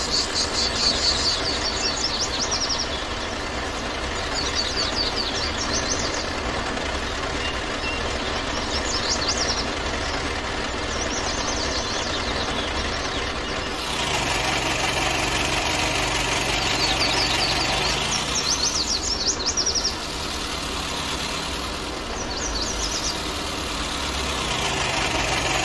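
A farm vehicle engine in Farming Simulator 19 on the Italia Light map drones steadily throughout at a constant idle-like pitch, with a slight shift in tone partway through.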